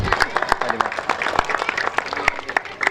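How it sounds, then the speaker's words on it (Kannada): Loud audience applause at a community gathering, dense rapid hand claps from a close crowd sustained steadily for the full stretch with scattered sharper individual claps standing out. "ಅವರಿಗೊಂದು ಜೋರಾದ ನೀವು ಚಪ್ಪಾಳೆ ತಟ್ಟಬೇಕಾಗತ್ತೆ"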